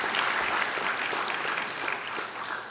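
An audience applauds at a nursing program ceremony as college trustees are introduced, a steady, moderately loud wash of many hands clapping that holds at an even level throughout.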